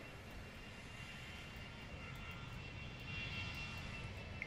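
Planes flying low over buildings in The Universim, a sustained droning engine roar that swells slightly louder toward the end, steady and unbroken without any voices.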